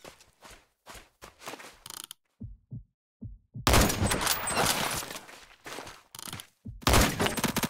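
Sniper rifle shots in a Roblox shooter game, a handful of sharp isolated cracks followed by a longer stretch of dense, loud gunfire bursts with short gaps between them.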